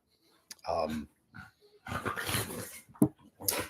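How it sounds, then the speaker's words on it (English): Dog growling close by in short low rumbles and bursts, mixed with a person talking over it. "Sorry, that's my dog Ziggy."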